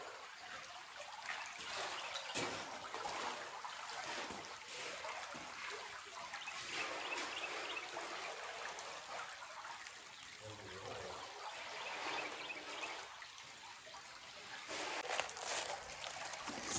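Creek water trickling and splashing steadily nearby during a crossing in southern Missouri woods, a continuous broadband wash with occasional louder splashes.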